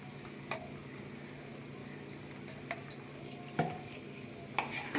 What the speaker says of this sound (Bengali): ঘিটা দিয়ে আরেকটু আমি নাড়িয়ে দেবো এখানটায়